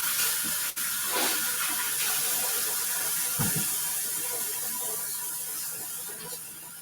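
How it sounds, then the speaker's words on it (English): Hands washed under a running kitchen tap while meatloaf is being prepared, a steady close hiss of flowing water with occasional splashes and a soft thud, slowly fading toward the end. "Let me wash my hands."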